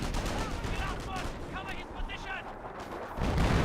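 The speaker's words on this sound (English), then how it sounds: "Artillery running in, some destruction starting going down." Artillery barrages boom through a Company of Heroes battle, dense rumbling blasts and crackling gunfire rolling continuously, swelling louder at the end.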